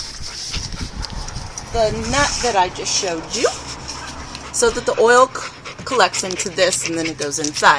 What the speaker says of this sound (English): Pardon my dog's panting.